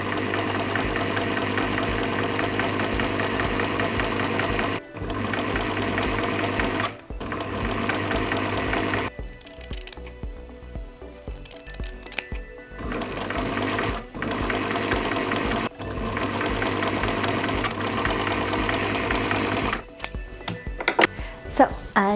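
A sewing machine runs in long steady bursts while stitching the shoulder and side seams of a bodice lining with French seams, pausing briefly between passes; loud and close, with no talk.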